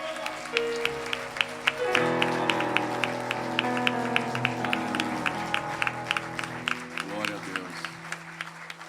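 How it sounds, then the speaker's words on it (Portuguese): A church congregation claps during a Sunday service, a rapid steady clapping running throughout with a sustained tone of music or voices mixed in beneath it. "Dê mais um aplauso a Ele."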